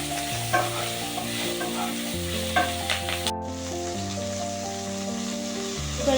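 Baby corn, spring onion and capsicum stir-fry in a pan over high flame, a loud crackling sizzle with repeated stirring scrapes and tosses, the hiss dropping back noticeably about halfway through.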